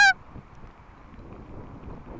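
A single short, loud goose honk opens the scene in the Scottish Highlands, where greylag and pink-footed geese are gathering; it is followed by quiet outdoor background.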